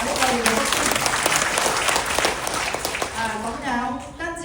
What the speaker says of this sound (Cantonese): 咁值得俾個掌聲呢個嘢